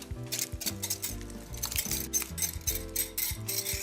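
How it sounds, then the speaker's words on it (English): Utensil scraping and clinking in a bowl as dry and wet hush-puppy batter is mixed, a steady rhythm of close, repeated strokes and taps with no talking. "So now that I have my dry batter, my wet batter, I'm gonna go ahead and mix that all in."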